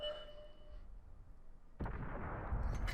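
A 105 leFH18B2 artillery gun fires in World of Tanks, a sudden loud broadband blast partway through that rolls into a sustained rumbling boom, following a quieter stretch of hum and tone.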